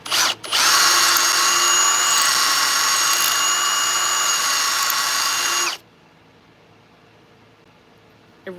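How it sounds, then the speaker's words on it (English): A power drill cleaning out epoxy during wood turning whirs loudly and steadily for several seconds after a brief start, then stops abruptly, leaving quiet with a faint click at the end. "So then you can take the drill"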